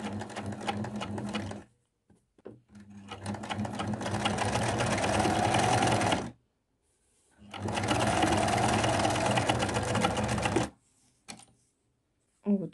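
A sewing machine runs in two long, loud bursts of close, fast stitching while a slit is sewn in fabric, with short silent pauses between and a brief restart at the end.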